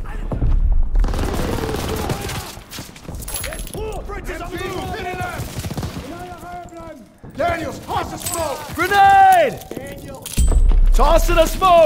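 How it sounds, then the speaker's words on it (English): Machine guns sweep a beach during the D-Day landing in Call of Duty WWII, a sustained rattle of bursts with occasional impacts and booms, mixed under loud, urgent shouting voices. "MGs are still sweeping the beach!"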